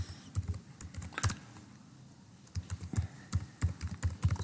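Quick, uneven clatter of keys on a computer keyboard, soft and close, in bursts with a short pause midway and no voices.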